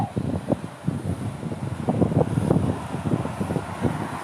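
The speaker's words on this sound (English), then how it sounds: "but it's so windy today" Strong wind buffets the microphone in gusty, rumbling bursts on the coast at Gioiosa Marea, Sicily, a continuous roar with uneven surges and no voices.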